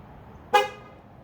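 A single short, loud beep from a newly working car horn on an older Honda, bright and close, sounding once after a brief quiet lead-in.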